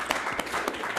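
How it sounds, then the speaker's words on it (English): An audience claps at an award presentation, a brief burst of many hands with a few sharper individual claps standing out, fairly close and lively. "no, we keep clapping."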